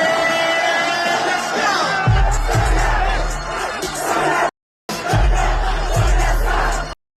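A dense concert crowd at a show in Mexico roars and whoops continuously, loud and close, with a brief cut of silence midway before the cheering resumes.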